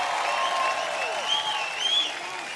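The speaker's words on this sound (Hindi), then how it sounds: "जोरदार तालियां हो जाएं।" Steady audience applause at a grand finale award announcement on stage, a continuous even clapping wash from a large crowd with faint voices blended in.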